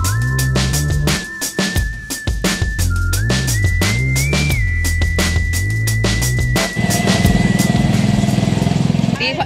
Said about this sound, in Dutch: omdat de motor tuk-tuk-tuk-tuk-tuk-tuk deed